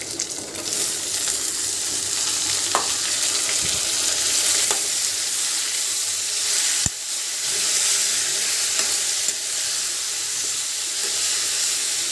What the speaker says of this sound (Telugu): ఇప్పుడు మనం ముందుగా కట్ చేసి పెట్టుకున్న టమాటా ముక్కలు వేసేసుకుందాం.